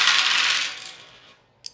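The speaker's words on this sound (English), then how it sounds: "we've got 2 white dice and 4 different color die, okay? So you roll them all." Six dice, two white and four coloured, rolled together for Qwixx make a bright, clattering rattle that fades over about a second, then a single late click as one die settles, with no talk.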